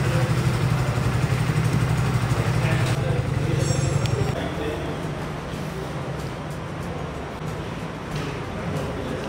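New motorcycle started up and settling into an idle, a steady low engine chug that drops slightly in level midway, with some background noise and no clear speech.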